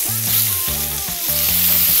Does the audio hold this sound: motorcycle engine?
no